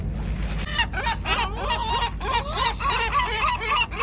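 Seagulls and sparrows squabble on a Barcelona seafront while being fed bread, a dense run of loud, close, repeated squawks and honking calls over a steady low background rumble.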